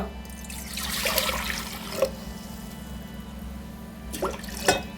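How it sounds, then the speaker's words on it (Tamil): Water is poured in two short splashing bursts into a pot on a lit stove for cooking greens, over a steady low hum. "தண்ணி ஊற்றிங்க"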